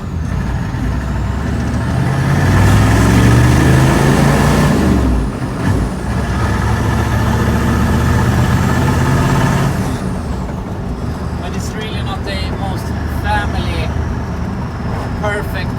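A Chevrolet Squarebody Suburban with a turbo diesel engine and manual four-speed, a loud, steady engine drone with a rising then falling pitch sweep as it revs, under someone talking.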